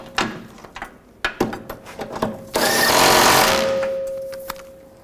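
A power tool tightens catalytic converter nuts on a 2007-2014 Chevrolet Silverado 2500 HD, giving several short rattling bursts and then one longer loud whir that fades, close by.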